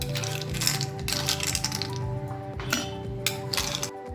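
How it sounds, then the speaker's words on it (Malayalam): Ice cubes drop into a serving glass for a watermelon juice drink, a few close crisp clinks and cracks over a quiet background hum. "നമുക്കതിലേക്ക് ആദ്യം കുറച്ച് ഐസ് ക്യൂബ്സ് ഇട്ട് കൊടുക്കണം"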